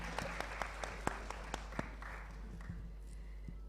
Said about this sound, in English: Please, a round of applause again for us.